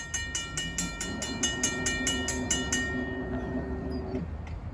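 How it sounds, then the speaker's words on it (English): A Long Island Rail Road commuter train rolls past a railroad crossing nearby with rhythmic clickety-clack from the wheels, a steady low rumble and a sustained tonal ring, fading out near the end. "the Panattaquit Avenue gates are going down for train 2771 from Patchogue to Babylon"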